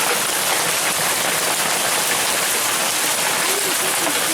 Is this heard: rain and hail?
yes